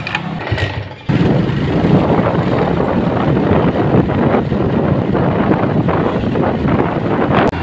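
Steady, loud wind buffeting and low road rumble from riding a motorbike on the way to a showroom, a brief quieter moment at the start, then continuous roaring air noise with no talking.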